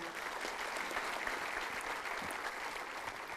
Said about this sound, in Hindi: एक बार जोरदार तालियां यजुर्वेंद्र सर के लिए